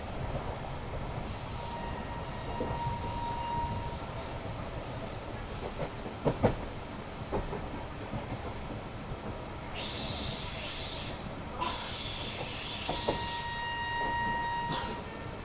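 Amrit Bharat Express passenger train running along a curving line through Kerala in light rain, a steady broad rumble of wheels and carriages with brief clanks and some high squeal, no talk.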